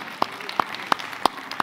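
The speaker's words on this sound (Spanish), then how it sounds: "vamos a darle un aplauso a todas las madres" A church congregation claps for the mothers: a handful of sharp, separate claps spaced evenly about a third of a second apart, moderately close and otherwise quiet.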